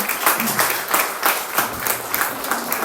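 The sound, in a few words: church congregation applause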